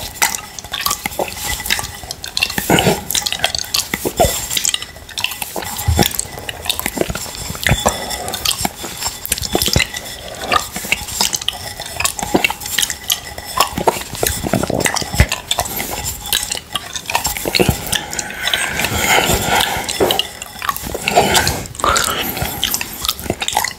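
Spoon scraping and stirring through Alpro coconut soy yoghurt in a pot, with close, continuous clicking and wet mouth sounds, ASMR style.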